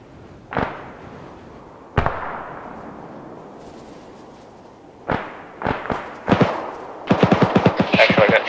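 Gunfire in ArmA 3: sharp single shots spaced apart, then several quick cracks, ending in a rapid automatic burst, moderately loud and echoing.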